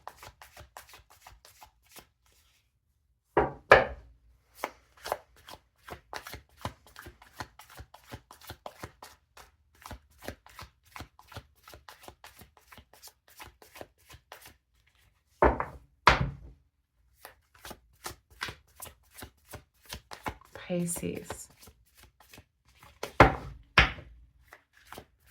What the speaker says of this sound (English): Feel free to fast forward through the shuffling.